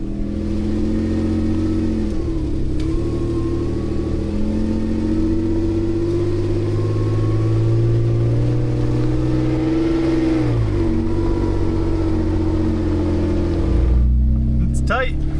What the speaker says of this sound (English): we'll see how Ryan does driving out of here